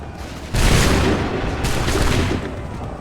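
A musket volley in Assassin's Creed 3 Remastered on PS5: a loud, dense burst of gunfire roars in suddenly and rumbles on for about two seconds, with a second wave of shots overlapping partway through before it tapers off.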